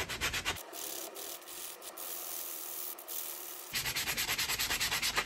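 Abrasive rubbing against a blackened, rust-treated metal tool, a rough continuous scrubbing with rhythmic back-and-forth strokes at the start and end and a steadier, softer rub in between, close and clear with no voices.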